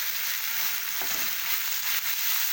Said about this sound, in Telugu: ఇట్లా మంచిగా గోలించుకోవాలి, కలుపుకుండాలి, లేకపోతే మాడిపోతుంది.